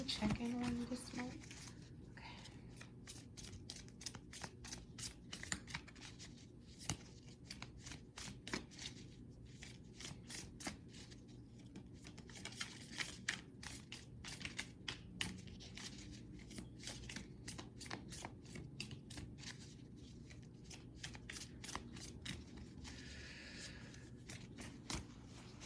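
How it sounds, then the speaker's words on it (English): Tarot cards are shuffled by hand in repeated rapid riffles and quiet flicks. Bursts come in uneven clusters over about 25 seconds in a quiet room. "I'm sorry if I'm taking so long to shuffle."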